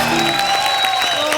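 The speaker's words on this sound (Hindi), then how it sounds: "एक बार कृष्णा के लिए जोरदार ताली हो जाए" A studio audience at a comedy talk show claps loudly and steadily, a dense burst of applause filling the whole moment.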